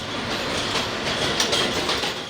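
New York City subway train running through the night toward Manhattan, a steady close rumble of wheels on track with faint clatter and hiss throughout.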